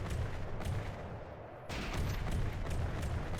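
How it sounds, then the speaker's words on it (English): A small APS gun fires in a vehicle-combat video game, producing a continuous loud rumble of rapid, overlapping shots and booms that swells slightly halfway through. "So the little APS gun actually has managed to find a way in there"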